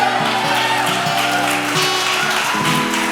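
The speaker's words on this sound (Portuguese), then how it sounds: "Forte esse aplauso ao Senhor." Loud, sustained applause from a church congregation, dense clapping spread across the room over held organ or keyboard chords, with no break in the noise.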